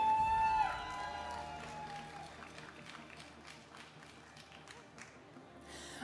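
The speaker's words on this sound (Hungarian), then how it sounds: "nagy tapsot szeretnék kérni még egyszer Salomének" Crowd applause for a judge at a cosplay contest during a sports festival, a dense clatter of many hands with some cheering, continuing steadily after a brief tone at the start.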